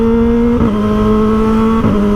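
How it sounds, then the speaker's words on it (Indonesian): A motorcycle engine drones loudly and steadily through a loud exhaust, close up, with two brief dips in pitch as the throttle shifts, and no speech. "Yang penting kan suara geberannya kedengeran, suara knalpotnya kedengeran gitu ya kan"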